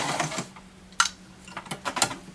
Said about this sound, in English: I'm going to sew backwards.